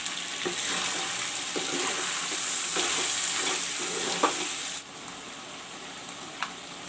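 Ginger, garlic and onion paste sizzles and fries in a pot of chicken curry with turmeric, with steady crackling and occasional scraping stirs; the sizzle drops quieter partway through.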